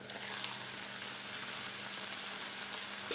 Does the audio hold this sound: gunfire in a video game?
no